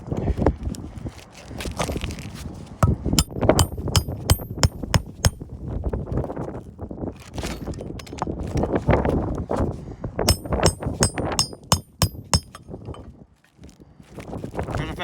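A hammer strikes roof fasteners in irregular bursts of sharp metallic blows, some rapid and clustered, others spaced apart, loud and close throughout.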